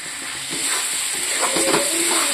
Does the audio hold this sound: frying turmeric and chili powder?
yes